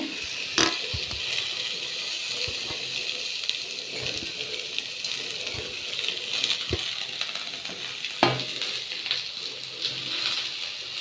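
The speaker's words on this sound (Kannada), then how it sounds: "ಸ್ವಲ್ಪ ಎಣ್ಣೆ ಹಾಕಿ ಬಾಣಲಿಗೆ ಹೆಚ್ಚಿಟ್ಟಿರೋ ಈರುಳ್ಳಿ ಬೆಳ್ಳುಳ್ಳಿ ಕರಿಬೇವಿನ ಸೊಪ್ಪು ಹಾಕಬೇಕು" Chopped onion, garlic and curry leaves frying in oil in a pan for obbattu sambar, a quiet, steady sizzling hiss broken by scattered light clicks and taps from the pan.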